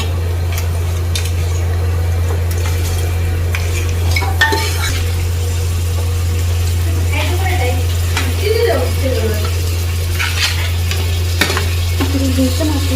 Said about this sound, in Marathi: त्याला स्वतःच पाणी सुटूपर्यंत चांगलं व्यवस्थित परतून घ्यायचं